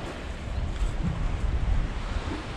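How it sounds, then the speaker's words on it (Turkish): Strong wind buffets the microphone while waves wash around an anchored boat at sea, a steady rough rushing noise with low surging swells for a few seconds, no voices. "Ama bayağı rüzgar var."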